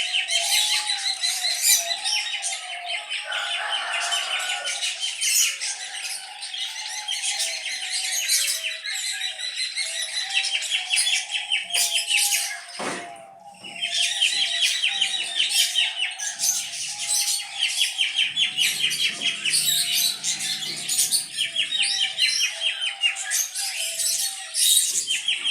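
Parrots and other birds chirp and tweet in a dense, continuous chorus, close and lively with overlapping calls, dipping briefly midway before resuming.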